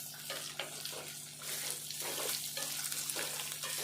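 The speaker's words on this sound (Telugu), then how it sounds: "అన్నీ కూడా ఇట్లా ఈ నూనెలో ఇట్లా గోలాలి." Ivy gourd stir-frying in oil for a dried fish curry: a steady broadband sizzle with a hum underneath, growing louder midway, with soft scraping strokes of stirring recurring throughout.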